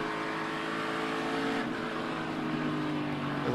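A NASCAR Cup race car at Darlington roars loudly through a spin, its engine drone steady and close with no talking.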